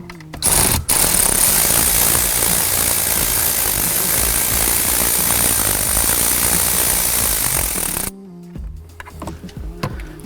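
Loud, steady mechanical whirring like a power drill or impact driver backing an 8mm ground bolt out of a 2024 Ford Ranger, running continuously for about eight seconds before stopping abruptly, followed by quieter handling clicks.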